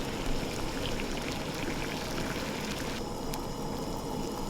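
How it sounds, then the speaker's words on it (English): Dumplings are gently dropped into a pot of boiling water, giving a busy, close bubbling and splashing wash with small plops, loud and continuous throughout. "As the water is boiling, you want to gently drop the dumplings in."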